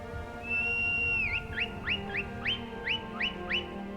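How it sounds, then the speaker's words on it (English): Horse Whistle power in Skyrim, a video game: a long rising whistle tone that bends down, followed by a quick series of about eight short swooping whistle chirps, clear over a quiet game backdrop. "there is a power called Horse Whistle"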